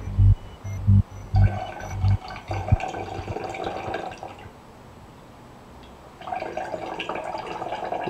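A liquid chemical poured into another liquid during a home synthesis, with a few sharp drips and clinks up front, then a steady soft pouring trickle that pauses and resumes, fairly quiet and close.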